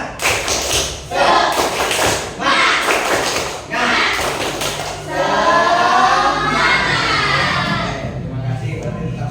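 A group of elementary school students claps a rhythmic spirit clap in a classroom, sharp clustered hand claps in bursts with chanting voices over them, loud and close.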